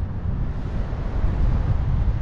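Strong westerly wind sweeps over a mountain slope in a brief, steady rush, buffeting the microphone with a low roar and no voices.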